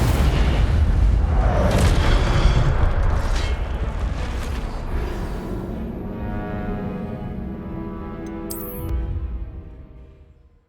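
In the game Hogwarts Legacy, an Incendio fire spell erupts in a loud, roaring blast that rumbles and slowly fades, with a sharp magical shimmer near the end.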